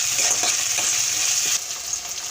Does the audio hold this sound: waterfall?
no